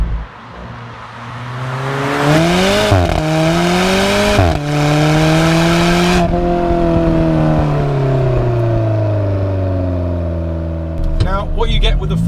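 A carbon-fibre Alfa Romeo 4C Spider with a 6-speed dual-clutch gearbox revs hard through several quick upshifts, each gear change cut by a sharp exhaust pop. The engine then settles into a steady, loud drone before a final burst near the end.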